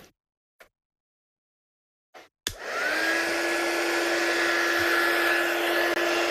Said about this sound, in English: Let's heat set this one. So for your heat embossing, what do we say? Get your gun hot.